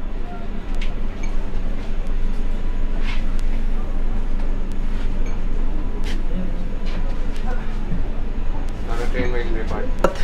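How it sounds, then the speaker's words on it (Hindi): Vande Bharat Express train pulling out of a station, a steady low rumble with faint clicks and creaks heard from inside a carriage, with talk over it. "अब ट्रेन डिपार्ट करेगी।"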